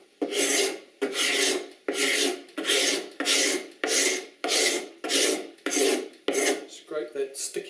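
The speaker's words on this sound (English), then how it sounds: "take a scraper, which is just a normal paint scraper, and scrape it all" A normal paint scraper drags repeatedly across tacky clay sculpted onto a panel, giving about ten loud, close rasping strokes in a steady rhythm, each about half a second long, with no talking.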